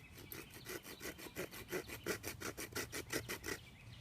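A small hand saw clamped in vice grips cuts through a thin branch in quick, even strokes, about four a second, each a close, quiet rasp with no voices.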